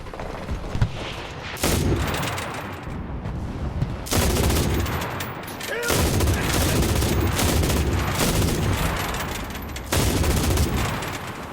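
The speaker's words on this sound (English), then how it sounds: "Ich rufe die Artillerie." An artillery barrage from a German APC war game sends repeated booms and bursts of gunfire crashing in heavy waves, loud and close, in a dense continuous fusillade.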